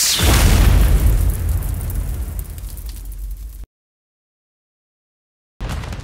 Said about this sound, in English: Oh, I got my first mortar strike.